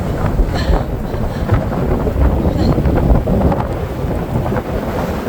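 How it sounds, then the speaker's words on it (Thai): Strong, steady sea wind on the beach at Borkum island roars and buffets the microphone, with a low rumbling blast and faint surf beneath, loud and continuous throughout. "ลมแรงจังเลย"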